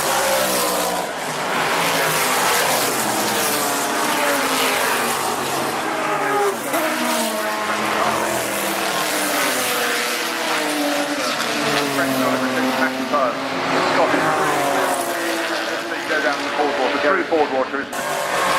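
Historic race cars compete in the RAC TT Celebration race at Goodwood Revival, a dense, continuous roar of several engines at close range with rising and falling revs, heard under steady commentary.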